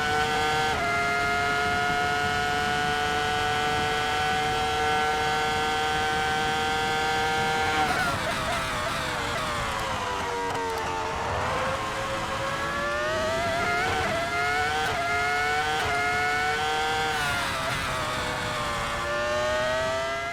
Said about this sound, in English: I'll let you enjoy a bit of engine note for the time being.